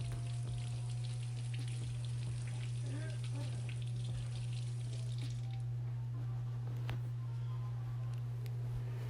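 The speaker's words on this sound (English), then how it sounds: "So here I am washing my apple." An apple is rinsed under a running kitchen tap, with a steady hiss and splatter of water that softens partway through, over a constant low electrical hum.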